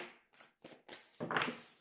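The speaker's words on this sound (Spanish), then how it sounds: "Vamos a barajar un poquito más" Short bursts of papery riffling, three or four quick flurries of tarot cards being shuffled, close and fairly quiet, with no voices.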